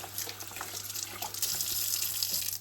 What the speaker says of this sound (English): just rinse it again in some cool water this time, just to take off any surplus